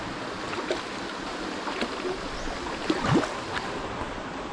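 Flooded river water rushes in a steady, broad wash while someone crosses the river, with a few faint splashes and knocks on top.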